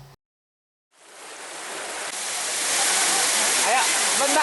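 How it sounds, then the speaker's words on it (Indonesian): Roaring waterfall about 15 meters high at Bukit Gantan in Musi Rawas, a broad, steady rush of falling water that starts suddenly after a moment of silence and keeps building in loudness. "ketinggian air terjun mencapai 15 meter"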